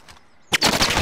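Gunshots ring out in a video game gunfight match: after a quiet moment, a sudden burst of rapid, loud shots fires in quick succession and keeps going to the end.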